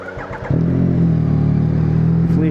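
A Yamaha MT-09 motorcycle engine catches and settles into a loud, close, steady rumbling idle with a slight rev, after a few quiet clicks at the start.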